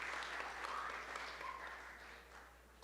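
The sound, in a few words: applause at a ceremony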